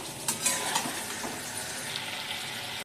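Rohu fish pieces and eggplant sauté in a pan, a steady close sizzle with a few faint utensil clicks near the start, no voices.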